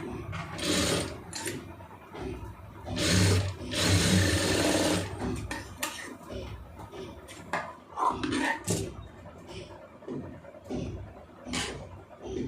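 A sewing machine stitches a blouse armhole seam in short, uneven bursts of whirring, running close and fairly loud between pauses, with fabric handling and small mechanical clicks and no talk.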